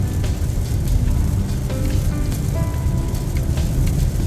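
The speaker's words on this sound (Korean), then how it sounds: "계속해서 자율주행으로 가고는 있습니다만 비가 엄청나게 옵니다." Heavy rain beats on a car driving along a highway, a dense, steady patter and hiss of drops and road spray that continues without a break from start to finish, with no voices.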